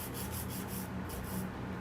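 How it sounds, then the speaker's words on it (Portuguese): Close, steady rasping of a file sanding a fiberglass nail during a manicure, a continuous scratchy rub with short rhythmic strokes and no voices. "enquanto lá vai secando, eu já vou lixando esse aqui também"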